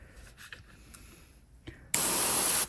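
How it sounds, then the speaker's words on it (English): An airbrush sprays gold-bronze paint over silver on a 3D printed figure, a loud steady hiss bursting on partway through after quiet soft rustles and faint handling noises. "I'm turning the silver into, I will say, into goldish bronze tone in all the areas where I spray"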